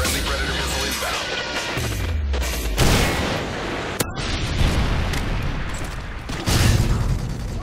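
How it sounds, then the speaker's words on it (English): Dense automatic gunfire and heavy explosion booms from a Predator missile strike in Modern Warfare 3 Kill Confirmed, continuous and loud throughout, with a sharp crack near the middle and a swelling blast toward the end. "Friendly Predator missile inbound."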